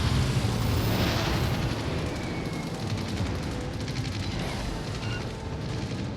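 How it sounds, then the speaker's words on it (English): HE bombs from a carrier strike hit a Massachusetts battleship in World of Warships: Legends, a dense rumbling roar of explosions that fills the whole stretch loudly and continuously. "One bomb hit."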